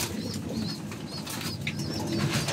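A pigeon kept by a fancier gives soft repeated coos close by, with light fluttering and rustling wing noises under a steady background hiss.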